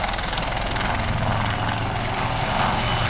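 An Augusta 109 helicopter flies by with a steady, loud rotor and engine roar that fills the whole stretch without fading, close and unbroken, with no voices.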